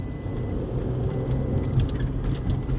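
A Toyota Aygo with an MMT automated manual gearbox, which has a fault that makes it drop into neutral, shifts from second to third gear on a drive around the block. The steady engine and road drone inside the car runs loud and even, with no talk.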